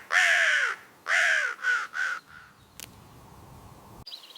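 A crow caws loudly and close in a forest-set animated story, with one long harsh caw followed by a rapid run of three shorter caws, then quiet background and a faint click.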